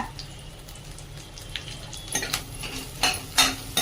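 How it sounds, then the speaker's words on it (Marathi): Chopped onion and garlic are sautéed in a pan over a low, soft fry. A utensil stirs and scrapes them, and sharper clinks and taps against the pan grow louder toward the end. "आता कांदा आणि लसूण छानपैकी परतून घेऊया"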